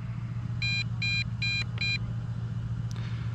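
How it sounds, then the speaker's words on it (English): Four short bursts of high electronic beeping in an even rhythm from a drone transmitter warning of low battery, sounding over a steady low engine-like hum. "you're gonna get a constant beeping on the transmitter when your battery's getting low"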